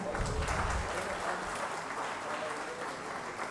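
Sustained audience applause at a Mahuva taluka panchayat farewell and felicitation ceremony, steady dense clapping from a crowd throughout with no break.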